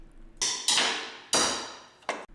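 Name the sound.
hammer striking 14mm wrench on strut tower nut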